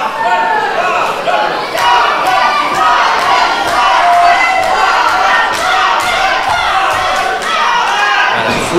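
A crowd at a wrestling match cheers and shouts loudly and continuously, with chants rising and falling and scattered thumps from the ring.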